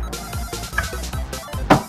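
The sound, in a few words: phone ringing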